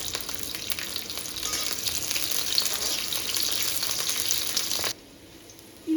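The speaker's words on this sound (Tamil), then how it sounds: "இது வெங்காயமும் கேப்சிகமும் ஃப்ரை பண்ணி தனியாக எடுத்து" Sliced onion and capsicum fry steadily in a pan for a leftover idli dish, a dense, loud continuous sizzle that cuts off abruptly near the end, leaving near silence, with no voices.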